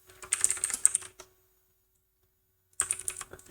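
Rapid typing on a computer keyboard comes in two close, crisp bursts of keystrokes with a long silent gap between them and no talking.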